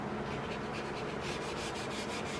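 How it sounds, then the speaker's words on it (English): Light hand sanding of a wooden replacement stock for an M1 Garand rifle, with no sanding block: a steady, even rubbing rasp in a rhythmic back-and-forth stroke, close and continuous, with no voices. "So I'm just going to light sand and I'm not going to press too hard."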